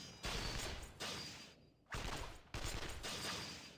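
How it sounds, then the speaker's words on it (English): Dense, continuous gunfire from the video game Persona 4 Arena Ultimax, rapid overlapping shots in long bursts broken by a brief pause, fairly quiet and with no voices. "Is that gunfire I hear?"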